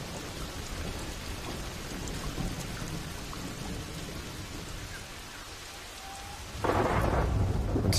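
Heavy wet-season rain pours steadily in a thunderstorm, with a low rumble of thunder and a louder burst of downpour near the end.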